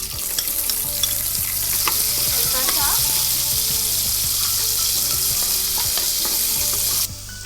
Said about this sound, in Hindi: अब हम उसी पैन में प्याज को फ्राई करेंगे।